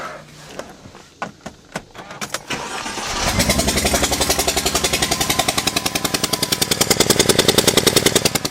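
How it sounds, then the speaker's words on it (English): A misfiring engine on a 2006 Mercedes-Benz C230 cranks with a few separate clicks and thumps, then catches and runs roughly, giving a loud, close, continuous sputtering beat with rapid uneven pulses that carries on to the end. "Listen to that thing sputter."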